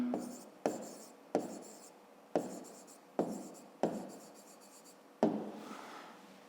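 Pen strokes of a handwritten math answer on paper, heard as seven distinct scratchy bursts in a steady rhythm, close and fairly quiet with no talk.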